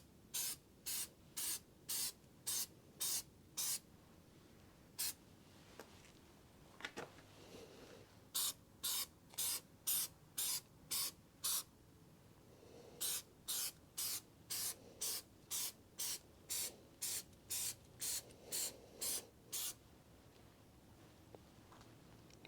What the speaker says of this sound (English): Better to spray in light, consistent coats than a huge blob like up here.